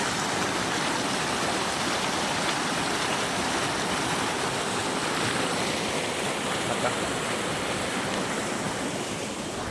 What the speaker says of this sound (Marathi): तर मित्रांनो बघा इकडून पाणी किती जोरात येते.